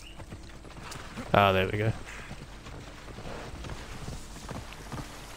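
Horse hooves clip-clop along a road in the Assassin's Creed Odyssey video game, a steady soft rhythm of steps heard under a man's brief speech, with a short louder burst partway through.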